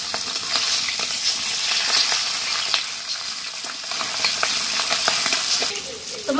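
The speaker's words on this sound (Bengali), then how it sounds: "তেলটা আমার তেতে গেছে, এবার মাছগুলো দিয়ে দেবো। এবার আমি মাছগুলো উল্টিয়ে দেবো।" Rohu fish pieces frying in hot oil and being turned over, a loud continuous crackling sizzle with spatters and occasional utensil taps throughout; no talk.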